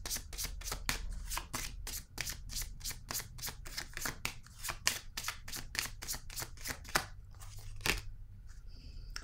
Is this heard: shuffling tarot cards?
yes